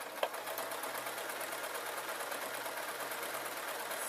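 A sewing machine stitches along the top line on the back of a ladies' t-shirt fabric, with a fast, even mechanical patter that runs steadily and fairly quietly throughout, alone.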